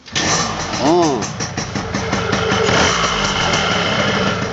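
An RX King motorcycle engine cranks and catches, then settles into a steady mid-pitched running rumble, close by, with a little background noise.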